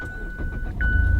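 A Mazda Skyactiv car engine starts up, and a low rumble swells and settles into a steady idle near the end, with a brief chirp just before the engine catches.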